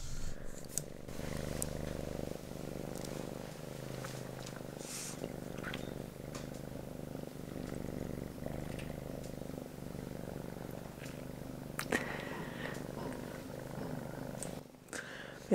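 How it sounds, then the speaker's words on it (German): A cat purrs steadily and close up, a low continuous rumble with faint rustling and small movement noises around it. "Katzenschnurren ist so beruhigend."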